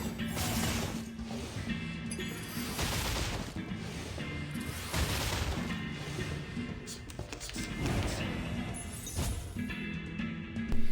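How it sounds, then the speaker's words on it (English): Cannons in the game Besides the Eclipse fire in dense, overlapping volleys, a continuous clatter of blasts and crashes with steady intensity throughout. "there we have these cannons. You will see they do not pack much of a punch"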